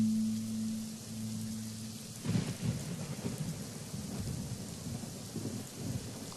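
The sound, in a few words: added CGI rain sound effect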